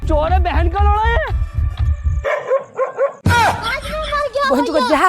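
A dog barks and yips in short bursts, close and loud, mixed with people talking and calling out over it.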